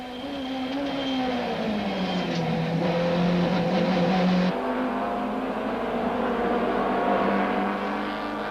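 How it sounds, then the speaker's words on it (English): Super Touring race cars from 1995, including Opel Vectras and BMWs, roar down the Gestetner Straight at Kyalami. Their loud engine tones climb and overlap as a pack passes close by, and the note drops sharply partway through. "The cars come steaming down the Gestetner Straight"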